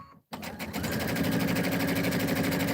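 A sewing machine stitches the back seam of a scrappy pillow, running steadily and close after a brief pause, with a continuous rapid whirring chatter throughout.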